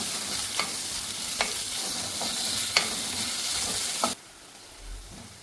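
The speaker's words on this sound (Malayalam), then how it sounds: "സവാള ഇട്ട് കൊടുക്കാം. ഒപ്പം തന്നെ കുറച്ച് കറിവേപ്പിലയും ഇട്ട് കൊടുക്കുന്നുണ്ട്. ഇനി ഇത് നന്നായിട്ടൊന്ന് വഴറ്റിയെടുക്കണം." Sliced onion and curry leaves sauté in a pan for Kerala okra curry, a steady close sizzle with occasional sharp spatula clicks, cutting off abruptly near the end into near silence.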